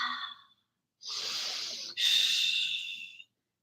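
Slow, audible breaths during a yoga flow: a short exhale, a pause, then a long inhale and a longer breathy exhale, close and airy with no talking.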